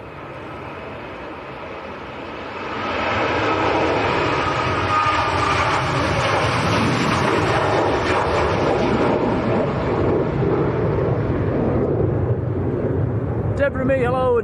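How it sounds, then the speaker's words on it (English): A Ryanair airliner bound for Malaga moves at Leeds Bradford Airport during stormy weather. A loud, broad jet roar swells in after a quieter start, then holds steady and powerful for the rest of the stretch. "Here comes the Ryanair to Malaga."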